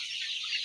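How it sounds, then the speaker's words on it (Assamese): Chickens cluck on a poultry farm, a dense, close chorus of high clucking heard alone. "নতুন পতানখিনি পাই কুকুৰা যথেষ্ট আনন্দ"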